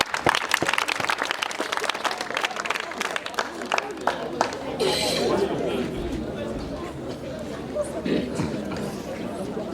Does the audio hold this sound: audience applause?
yes